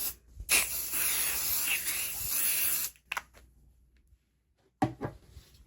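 A sustained aerosol spray hisses for a couple of seconds, pauses, then a shorter burst follows, close and fairly loud with quiet gaps between.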